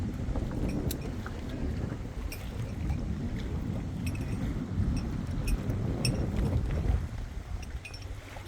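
Wind buffets around a boat in rising waves, a constant low rumbling roar of gusts and sloshing water with faint splashes and knocks scattered throughout.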